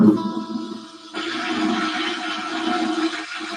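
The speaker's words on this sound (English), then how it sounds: "that sounds like a toilet flush to me." A toilet flush, a sudden loud rush of water that swells and keeps gurgling steadily, heard close, with a voice talking briefly before it starts.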